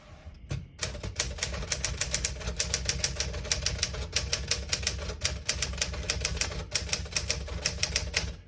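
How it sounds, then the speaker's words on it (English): Rapid keystrokes rattle on a 1965 Smith-Corona Sterling portable typewriter, a steady run of sharp close clacks with brief pauses, then a bell-like ding and carriage movement partway through. "Beautiful typing machine."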